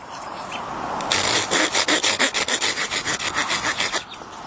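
A knife cutting cleanly through fresh plant stems just behind a joint while making a woven living hammock, a close rasping scrape that turns into a quick series of rhythmic sawing strokes before stopping.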